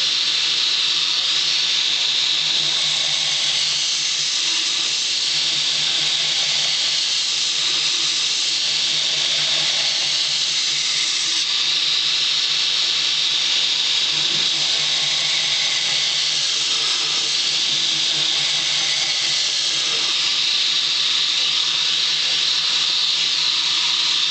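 A flat ground knife blade being ground on a coarse 36 grit belt, giving a loud, steady abrasive hiss and whine that runs unbroken throughout, with slight shifts in pressure and no talking.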